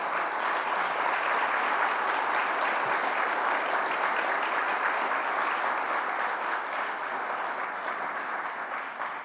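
Steady, dense applause from a large crowd at a government press announcement, sustained throughout and tapering slightly at the end.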